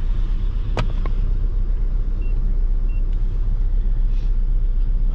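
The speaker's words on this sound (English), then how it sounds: "she is definitely still misfiring" A Chevy Colorado engine idles roughly with a misfire, a steady low rumble, a sharp click near the start and no talking.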